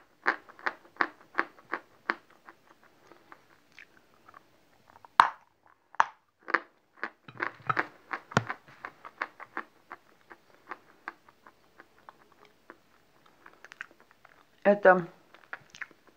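Crumbly clay chalk (glinomel) bitten and chewed close up, a run of crisp short crunches followed by softer chewing, with a brief spoken word.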